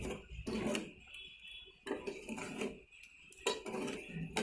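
A spoon scrapes and clinks against a cooking pot while stirring sweet milk payasam with sugar and cardamom, in quiet repeated strokes with pauses between them and no talking.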